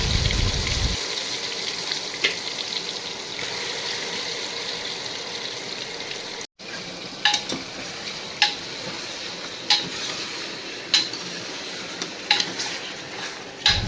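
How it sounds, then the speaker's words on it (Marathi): Marinated chicken hits hot oil with a loud initial hiss that settles into a steady sizzle, broken by sharp clinks and scrapes of stirring at irregular intervals. "तेल गरम झाल्यानंतर आम्ही टाकलं चिकन आणि त्याचा आवाज बघा असा तर्रकेने येतो आहे"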